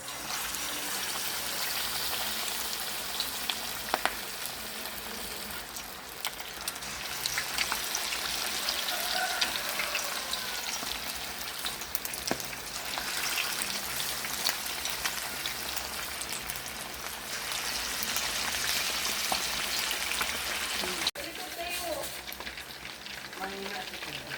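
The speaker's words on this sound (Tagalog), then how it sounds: "Kulong-kulong na yung ating mantika." Cooking oil bubbles and fries at a steady, moderate level, a continuous crackling hiss with scattered pops over a long stretch while chicken is fried, a few faint voices briefly underneath.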